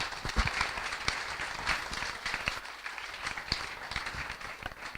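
A crowd claps in a dense, steady patter, fairly faint and distant, with a few sharper individual claps standing out.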